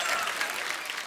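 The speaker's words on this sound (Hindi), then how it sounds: "जोरदार ताली से स्वागत कीजिए" A studio audience at a Hindi comedy show claps loudly and steadily in a dense, continuous burst of applause.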